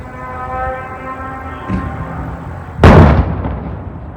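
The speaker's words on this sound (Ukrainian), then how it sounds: "І вибухнула в тому напрямку." A hum fades out, then a single loud, sudden explosion of a fixed-wing attack drone booms some distance off and rumbles away over a couple of seconds.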